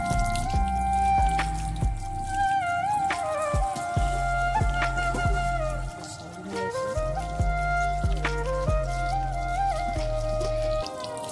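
A weak village water supply runs very low, giving slow, irregular drips and small splashes that repeat close by over a faint background, with no clear speech.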